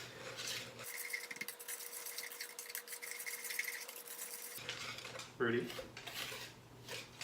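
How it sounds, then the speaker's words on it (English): Brownie batter is whisked briskly in a bowl, with quick rhythmic scraping strokes against the sides and a brief clatter near the end. Soft background sound runs beneath, with a short spoken word. "if you want the best brownies in town, you gotta whisk"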